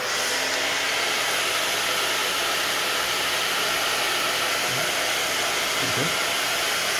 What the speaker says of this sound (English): let's see what happens with the hair dryer